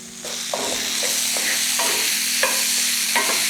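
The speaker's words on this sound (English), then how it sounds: "Just gonna roll this pumpkin around in this deliciousness." Pumpkin pieces stirred through a hot curry pan in a plant-based, dairy-free pumpkin curry, giving a steady close sizzle with repeated scraping strokes of the spoon, no talking.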